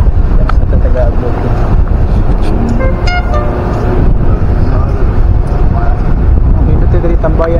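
Strong wind buffets the microphone at an outdoor roadside hangout, a loud continuous rumble with scattered faint horn toots and traffic mixed in throughout.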